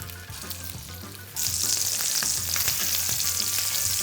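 Spicy shrimp cakes frying in a pan of oil, a loud steady sizzle that jumps in intensity as a fresh batch goes in, with faint stirring clicks and no voices.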